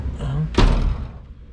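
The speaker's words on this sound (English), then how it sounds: "door shut" A car door on a Honda Civic EK with a custom seat mount shuts once with a solid, close thump, after a quiet interior stretch, then a short fading rattle.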